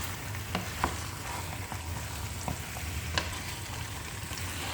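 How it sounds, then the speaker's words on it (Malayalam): Chicken coated in masala is stirred in a pan over a continuous sizzle, with intermittent spoon scrapes and taps against the pan. "ഇനി നമുക്കിത് നന്നായിട്ടൊന്ന് മിക്സ് ചെയ്ത് കൊടുക്കാം."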